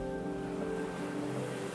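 Sea waves roar in a continuous, dense wash of surf at the shore, heard alone without voices.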